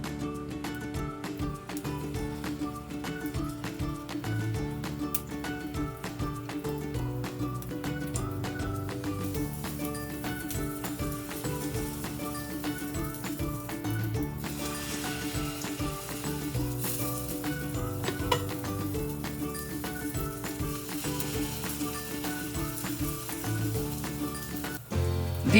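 Ricotta pancake batter made with almond flour sizzling in a hot, oil-brushed pan, a steady close frying crackle that runs throughout with faint clinks of a utensil.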